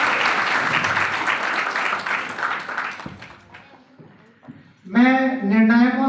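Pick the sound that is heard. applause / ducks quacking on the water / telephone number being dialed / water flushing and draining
applause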